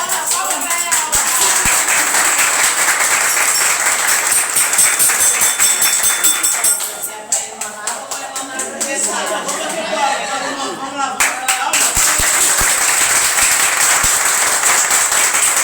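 A group of schoolchildren clapping together during an Afro-Brazilian culture lesson, loud sustained applause with a ragged rhythm that thins briefly in the middle before swelling again, with voices mixed in.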